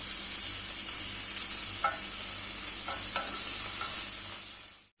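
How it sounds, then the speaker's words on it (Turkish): Chanterelle mushrooms (Cantharellus tubaeformis) sautéing in a pan: a steady, soft frying hiss with a few faint utensil clinks and stirring, close and even, fading out abruptly at the end. "E, biraz kavurdum."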